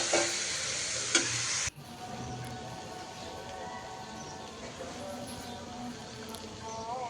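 Chopped carrots go into frying onions with a loud, bright sizzle that cuts off abruptly, followed by quieter stirring and soft frying noise under a voice speaking.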